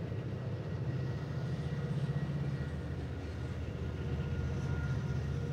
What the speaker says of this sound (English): Yes, that's a train going by.